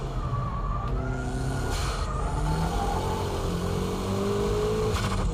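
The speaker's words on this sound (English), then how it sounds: "What do you do when it's all wet like this? Just pull the old e-brake." A car drifting on a wet road with the handbrake pulled, tyres squealing in long wavering tones over a steady engine drone, with brief bursts of spray noise, heard from nearby without talk.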